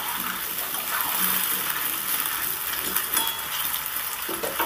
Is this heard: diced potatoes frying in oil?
yes